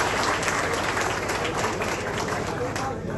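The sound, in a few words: audience applause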